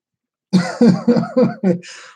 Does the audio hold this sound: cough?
yes